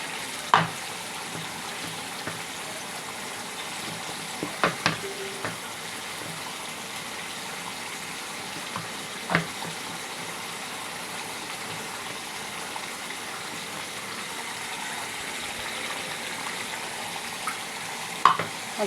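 Young jackfruit sautés in a pan with a steady, even sizzle, broken by a few sharp spoon scrapes and knocks, close and continuous, with no talk.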